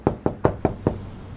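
Five sharp knocks on a door, evenly spaced and close, ring out with nothing else heard, as a visitor arrives.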